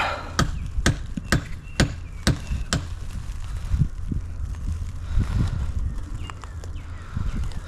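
Six sharp hammer taps ring out in quick succession on a bluestone paver being set into a patio, followed by softer thuds and shuffling as work continues outdoors.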